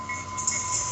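A FrontRunner commuter train passing a station in Clearfield, a steady close rumble of rail cars with a faint high metallic ring, heard alone.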